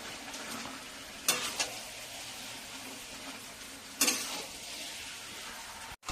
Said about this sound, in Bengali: মশলা কষানো হয়ে গেছে, এবার ম্যারিনেট করা মাংসটা দিয়ে দেবো।